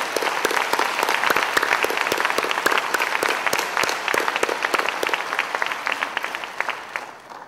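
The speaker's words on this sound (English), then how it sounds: "please join me in a round of applause to recognize all of these contributions" A conference audience at a Forest Day 5 closing plenary breaks into sustained applause, many distinct sharp claps close by over a dense crowd wash, holding strong and then gradually thinning toward the end.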